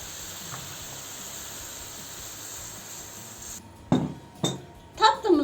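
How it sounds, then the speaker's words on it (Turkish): Lukewarm syrup poured over hot baked honey-finger (bal parmak) desserts, a soft steady hiss running throughout, joined near the end by a few sharp clinks of a pan or utensil. "Tatlılar sıcakken ılık şerbetiyle buluşturuyoruz"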